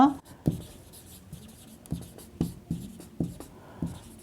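A pen scratches on paper while working a trigonometry problem, a series of short separate strokes in an irregular rhythm, close and clear.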